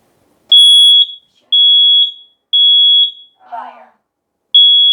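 Kidde hardwired smoke and carbon monoxide alarm under test gives loud, piercing high-pitched beeps in a steady pattern of three long tones, then a short spoken warning voice, then another beep.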